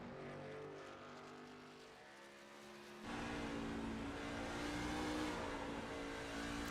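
Race car engine from the Watkins Glen circuit in an iROC Challenge racing game, a steady loud drone of sustained engine harmonics that shifts pitch and surges louder partway through the lap, no talk.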